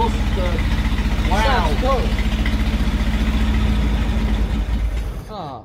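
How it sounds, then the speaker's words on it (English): A 1968 Bedford CA ice cream van engine runs with a blowing exhaust, a loud, close, steady rhythmic chuffing idle that pulses evenly throughout before cutting off at the end, while voices exclaim over it. "Blowing exhaust, but wow."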